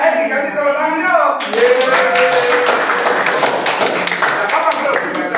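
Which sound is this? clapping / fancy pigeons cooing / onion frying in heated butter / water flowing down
clapping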